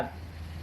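A knife slicing through charcoal-grilled pork tongue, a brief soft cutting sound up close with faint background noise.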